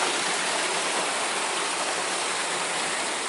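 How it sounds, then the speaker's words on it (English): A hidden waterfall and stream pour in a dense, constant broadband rush, close and loud, with no pauses or voices. "I'm gonna see if I can get a better view of this waterfall real quick"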